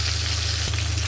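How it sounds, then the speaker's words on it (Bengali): Rohu fish pieces frying crisp in a hot pan give a steady, close, even sizzle for about a second, with a faint low hum underneath. "মাছগুলো কড়া করে ভাজা করে নিচ্ছি।"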